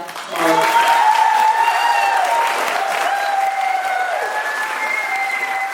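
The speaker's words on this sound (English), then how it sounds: "give one more round of applause for someone very special" Sustained audience applause at a Halloween fantasy show, steady and loud after a quick swell, with cheering and a sung or spoken voice line riding over the clapping throughout.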